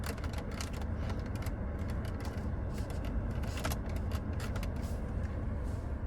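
Air vents in a 2023 Mercedes GLB 250 are worked by hand, giving a string of faint, irregular clicks and small creaks over a steady cabin hum, close up with no talking.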